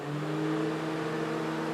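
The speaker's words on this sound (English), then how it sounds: "This time we have both fans working properly." Both radiator cooling fans on a warmed-up car spin steadily under scan-tool test, a constant whirring drone with a faint tonal hum, unchanging and alone throughout.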